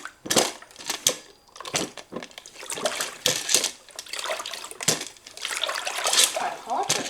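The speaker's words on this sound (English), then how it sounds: "And we will now rinse." Water sloshes and splashes in a cleaning bucket's rinse section, irregular gurgling bursts close by, with someone talking over parts of it.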